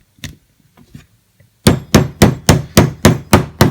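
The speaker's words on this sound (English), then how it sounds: "Use your polymer hammer" A polymer hammer tapping a front locking block pin into a SAR9 pistol chassis: a few light taps, then eight sharp, evenly spaced strikes, loud and close, with no talk.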